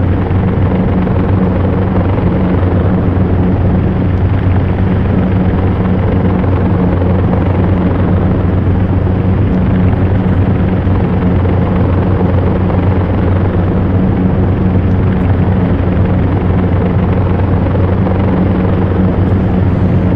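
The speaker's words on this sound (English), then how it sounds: "The propellers on this plane and the engines have a certain rumble to them" Vickers Vimy propeller engines in Flight Simulator X: a loud, continuous low rumble and drone that stays even from start to finish, with no talking.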